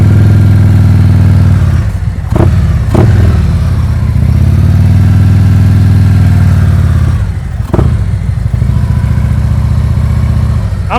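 A motorcycle engine runs loud and close during slow-speed riding drills, holding a steady low idle-like drone with brief throttle dips and blips, no voices over it.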